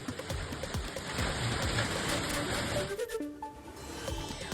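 Heavy unseasonal rain pours down during a stormy spell in Malegaon, a dense, loud, continuous hiss and patter that thins and changes character partway through.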